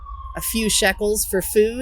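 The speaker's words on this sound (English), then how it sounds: "I apologize for the siren" An emergency vehicle siren on a Jerusalem street holds a steady, fairly loud wail beneath a person speaking throughout.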